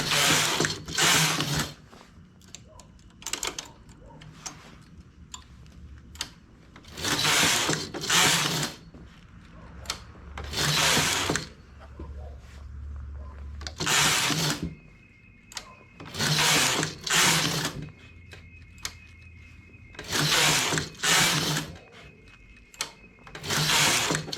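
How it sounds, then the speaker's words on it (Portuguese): Knitting machine carriage repeatedly sliding across the needle bed while knitting a garçon-style vest, a series of loud, close mechanical whooshing passes with pauses between strokes and small clicks of needles being raised. "Sempre quando o carro vem para a direita, para o lado dos pontos do decote aqui, elevo uma agulha, 9 vezes."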